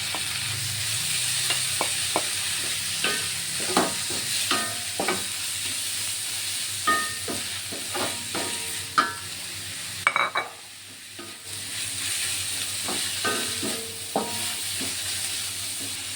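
Boiled banana blossom stir-fried with cooked spice paste in a pan, a steady sizzle and hiss punctuated by repeated sharp scraping clinks of a spatula stirring, close and loud, with a brief pause near the end.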